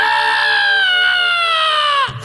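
A man vocally imitates a rooster crowing during a comic Telugu drama spoof, holding one long, loud, harmonic cock-a-doodle-doo call for about two seconds before it breaks off abruptly.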